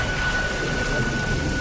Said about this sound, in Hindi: बारिश अब भी जोरों पर थी